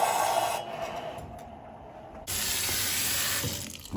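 Cold water supply rushing back into a drained hot water heater, a steady loud hiss of flowing water that drops briefly to a quieter trickle and then surges back at full strength, no talking.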